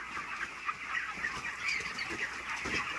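Broiler chickens, young and plump, cluck in a busy steady chorus nearby, a continuous mass of overlapping bird calls with no talk.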